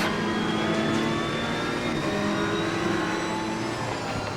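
In a sim racing game at Laguna Seca, a field of race cars, Porsches and an Aston Martin V12 Vantage among them, accelerates off the start, engines revving loud and rising together in a dense, sustained roar.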